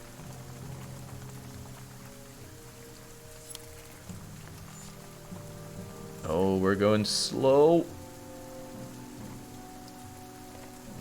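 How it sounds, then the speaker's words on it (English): Steady patter of rain on a dirt path in the video game The Banner Saga 2, running under soft game music, with a brief spoken remark partway through. "Darkness sky lets loose its rain, and soon fat drops of water turn the dirt path into sucking mud."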